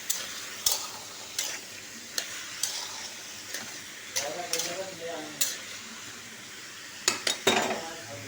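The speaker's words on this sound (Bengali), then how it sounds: "এবার এটাকে ভালোভাবে ফ্রাই করে করে সেদ্ধ করতে দেবো।" Onions fry in a pan with turmeric and a little salt, a steady sizzle broken by sharp scrapes and clinks of a spoon against the metal, several quick strikes near the end.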